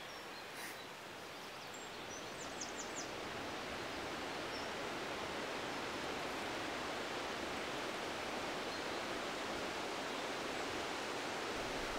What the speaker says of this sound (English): The sound of the wind in the trees will help to mask the noise that we are making